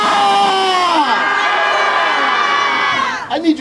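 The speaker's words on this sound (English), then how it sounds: "let me hear you scream, ah!" A rally crowd at a protest in Dupont Circle, Washington DC, screaming and cheering loudly in a sustained roar of many voices that fades toward the end.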